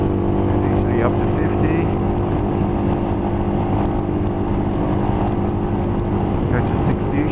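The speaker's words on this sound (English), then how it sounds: "Rolling on. Second gear. Third gear." A Royal Enfield Himalayan motorcycle rolls on and accelerates through second and third gear, a steady engine drone under heavy wind rush, with the rider talking over it.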